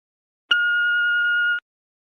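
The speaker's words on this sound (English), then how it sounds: "Please leave a message after the beep." A single steady electronic beep from an answering machine, lasting about a second, clean and alone with silence before and after.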